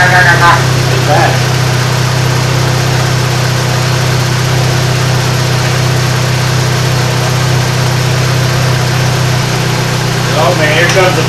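A 2006 Saturn Ion engine with bad engine noises runs loud and constant, a steady droning idle with a faint vibrating rattle that holds unchanged throughout.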